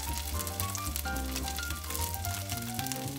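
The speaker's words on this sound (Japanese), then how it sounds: "レバーに香ばしい焼き目がついたらひっくり返していく。" Pieces of liver sear and sizzle in a hot wok as they are turned over for a Chinese-style liver and garlic chive stir-fry, with a steady close frying hiss under prominent background music.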